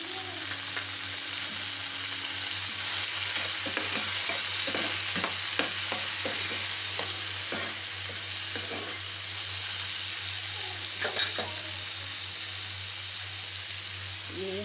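Tomatoes frying in a hot pan with steady sizzling throughout, broken by repeated scraping and stirring clatter from a spoon against the pan, loud and close with no talking.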